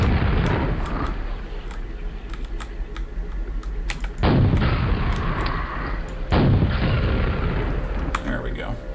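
A rocket launcher fires in Quake, with two heavy booming blasts that each decay slowly, set among dense game noise and rapid clicking.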